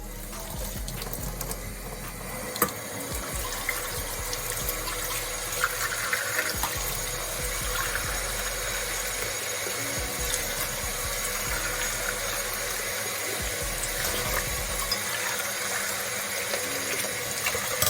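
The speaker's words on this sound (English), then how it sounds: "Then I add 3 cups of water." Water runs steadily into a cooking pot of rice, a continuous splashing pour of about three cups with a few faint metallic clinks underneath.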